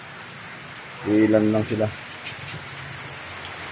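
Heavy rain pours in a steady, dense hiss during a storm, with chickens sheltered indoors. A voice speaks briefly partway through over the constant downpour.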